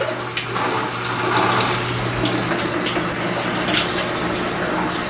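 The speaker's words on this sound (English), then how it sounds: "let's go ahead and turn on the water." Hot and cold water pour steadily into a Black and Decker portable washing machine, a loud continuous gushing rush with a low mechanical hum beneath, heard up close.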